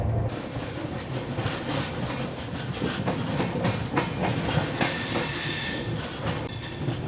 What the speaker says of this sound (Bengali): ট্রেন খড়গপুরে কিন্তু মোটামুটি রাইট টাইমেই ঢুকছে।